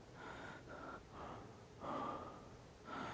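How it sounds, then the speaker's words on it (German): Heavy, rhythmic panting from a player in The Forest VR, a series of close, loud gasping breaths in and out with short pauses between them, and no other sound. "ich gerade extrem am Schnaufen bin"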